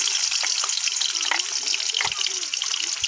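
Boal fish slides into hot oil and fries with a loud, steady sizzle and crackle close by, with occasional pops and spits throughout.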